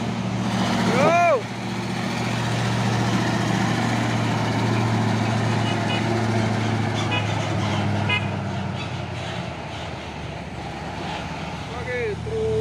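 A Hino trailer truck on a road with a steady engine drone and rumble. Horn toots sound near the start and the end, with a voice speaking over the truck noise.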